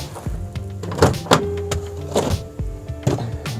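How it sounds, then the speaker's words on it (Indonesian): Car power sliding door being operated on a cheap used car with a faulty door: repeated motor whirs and sharp mechanical clunks and thunks in a close, start-stop rhythm, with no talking. "Coba kita cek dulu nih, power sliding doornya jalan apa enggak."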